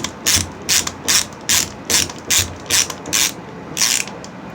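A hand cutter clicks and ratchets through copper in a steady rhythm, about nine crisp mechanical strokes close by, with no voices.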